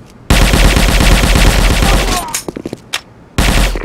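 Sustained automatic gunfire in the tactical shooter Sudden Attack, loud and close, a dense rapid burst lasting about two seconds, then a few scattered single shots and a short pause before another burst begins.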